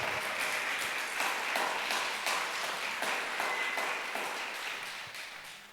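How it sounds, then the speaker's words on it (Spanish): Congregation at a church service gives a strong round of applause, dense steady clapping from many hands filling the room and tapering slightly near the end. "dale un fuerte aplauso al Señor"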